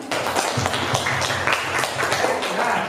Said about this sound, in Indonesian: Kalau setuju tepuk tangan.